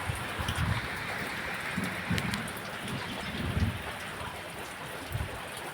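Steady monsoon rain pours down in a rural village during a storm, with dense continuous patter and heavier low rumbling gusts throughout.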